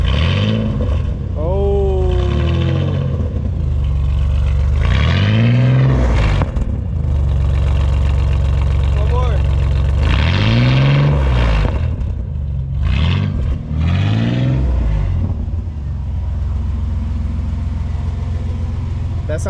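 Chevy Blazer engine with a Cherry Bomb muffler and an exhaust leak, idling with a deep rumble and revved in several throaty bursts that rise and fall, heard up close with a few short voice interjections.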